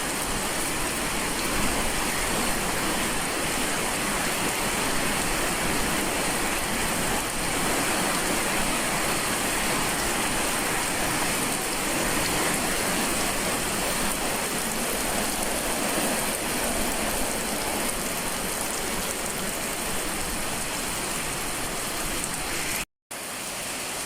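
Heavy rain pours steadily and loudly, a dense unbroken hiss of drops drumming on surfaces outside a home kitchen. It stays constant throughout with no voices, then cuts out for a moment right at the end.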